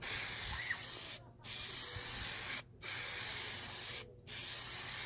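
Plasti Dip sprayed from an aerosol can onto the trunk of a 2016 Dodge Dart SXT, three long steady hissing passes separated by short silent breaks, close and loud.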